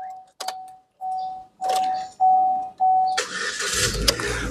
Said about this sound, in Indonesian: Oke, kita coba start mobil ya.